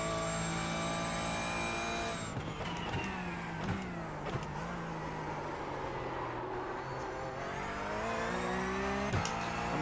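Porsche 911 GT3 Cup race car in the iRacing simulator, its engine droning steadily at high revs with pitch dips and rises through gear changes and corners, continuous and fairly loud with no talking.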